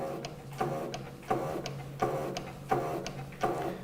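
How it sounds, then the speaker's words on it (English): Steady pumping of the hand lever on a drum lifter depalletizer raising a partially lifted drum, a regular mechanical clack about every 0.7 seconds with a ratcheting rattle between strokes, close and without talk. "To lift it further we can just pump this handle."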